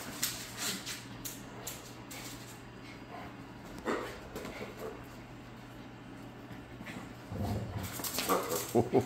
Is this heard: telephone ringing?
no